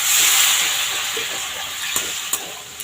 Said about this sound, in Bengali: এই সময় আমি একটু গ্যাসটা কমিয়ে দিয়ে অল্প একটু জল দিচ্ছি।